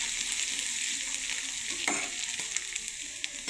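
Turmeric and chili powder mixed and fried together in a pan: steady close sizzling with intermittent scraping stirs of a spoon, and no voices.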